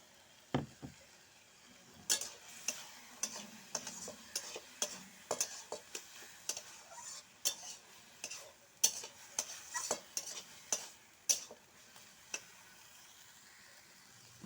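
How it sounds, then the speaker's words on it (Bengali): A spice mixture is stirred in a pan, giving a string of sharp, irregular scraping clicks and taps of a spatula against metal over a faint low sizzle, close by and with no talk. "মশলাগুলো দিয়ে ভালো করে লাড়াছাড়া করব"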